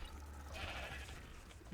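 A sheep in the ARK Scorched Earth video game gives one drawn-out, wavering bleat, fairly close and moderately quiet over low game ambience.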